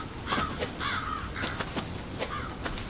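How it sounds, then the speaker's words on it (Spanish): Harsh crow caws from Resident Evil 7, three or four rasping calls spaced across the stretch, moderately close over faint ambient noise with no voices. "Pinches cuervos, de porque ya no están."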